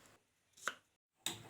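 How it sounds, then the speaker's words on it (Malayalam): A knife chops small peeled shallots into small pieces, giving a few sharp, quiet strikes spaced apart with near silence between them. "ചെറിയ ഉള്ളി അഥവാ വെങ്കായം, അത് തോല് കളഞ്ഞ് ചെറിയ കഷ്ണങ്ങളാക്കി നുറുക്കി മാറ്റി വയ്ക്കുക"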